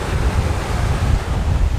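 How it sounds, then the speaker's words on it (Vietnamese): Strong wind buffets the microphone on a beach on Bantayan Island in the Philippines, a loud, continuous rumbling roar blended with breaking surf, with no voices. "Tắm ở chỗ này coi, hơi gió xíu nha."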